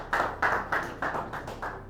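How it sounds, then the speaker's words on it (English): A small group claps in sparse, evenly spaced bursts, about seven distinct claps close by, thin rather than a full round of audience applause. "Round of applause, please."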